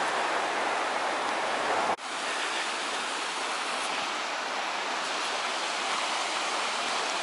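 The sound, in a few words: running water of a mountain stream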